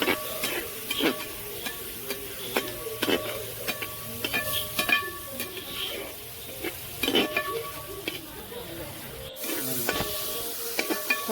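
Onions and tomatoes sauté in a pan for liver roast, a steady close sizzle broken by repeated scrapes and clinks of a spoon stirring against the metal, with no voices.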